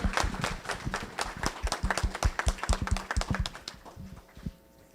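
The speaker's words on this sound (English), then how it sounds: "Give yourselves a round of applause for being great." An audience at an official launch event gives a round of applause: many hands clap briskly, close and lively, then thin out and fade to a few scattered claps at the end.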